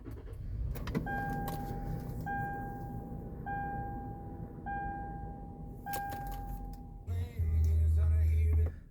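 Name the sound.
2019 Toyota 4Runner being started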